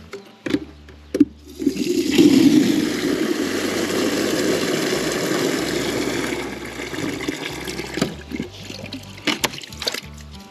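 Water pouring into an 8-litre garden sprayer, a continuous splashing gush lasting several seconds, framed by a few handling knocks before and after.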